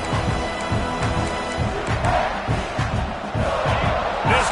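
Stadium crowd at an American football game, roaring loudly and steadily around the field to bother the offense, with a dense chanting din that rises in rhythmic surges.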